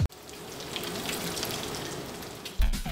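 Bacon sizzles steadily in a hot pan with oil, a dense crackling hiss close by, ending with a thump of handling.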